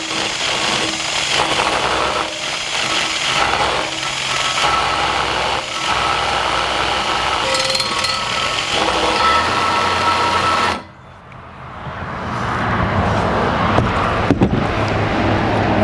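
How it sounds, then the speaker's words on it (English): A wire brush welded to threaded rod spins inside a fabricated Ford 9-inch rear axle tube, a loud wobbling, rattling whir that cuts out briefly near the end before starting up again. "We took a wire brush and welded it on the end of some all rod, and we're going to use that to clean out the inside of the tube here"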